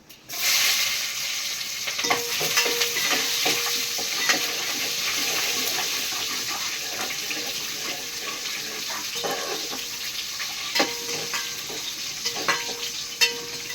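Cinnamon, cloves and small onions temper in hot oil in a pan for a soya kurma, giving a steady, close sizzle and crackle throughout with occasional scrapes and clinks from stirring.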